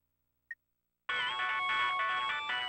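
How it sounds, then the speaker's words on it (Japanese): A phone ringtone in the PS2 game Shikigami no Shiro starts after a short beep and near-silence, a loud, steady electronic ring with bright layered tones that runs to the end. "電源を入れるなり着信かよ。"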